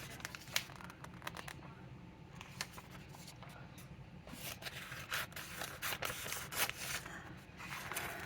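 Scissors cut a picture out of a magazine with soft, repeated snips and paper rustles. They are close but quiet, with light scraping throughout.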